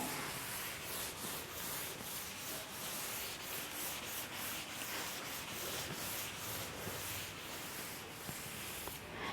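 Steady, continuous rubbing of an eraser across a drawing on paper during a maths lesson, close and loud with an even scraping texture throughout and no talk.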